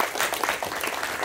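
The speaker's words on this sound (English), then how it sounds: "And let's give up one more round of applause for Austin." A crowd applauds at a university projects showcase, a dense wash of many hands clapping that stays steady and fairly close for its whole brief length, with no one speaking over it.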